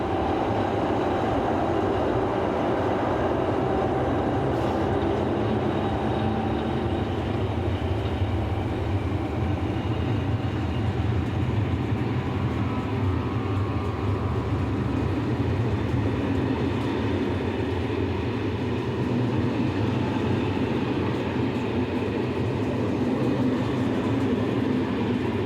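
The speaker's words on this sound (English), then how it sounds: "Now withdrawn from traffic, Class BB 9600 number 9622 shunt stock after arriving with the 1607 service from Lyon Perrache." Class BB 9600 electric locomotive number 9622 shunts coaching stock at a station after arriving from Lyon Perrache, giving a continuous low rumble with faint wheel and rail noise, steady and close, with no voices.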